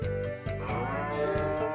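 Jersey cows in Harvest Moon: Tale of Two Towns let out a single drawn-out, nasal in-game moo, clear and close with no talk.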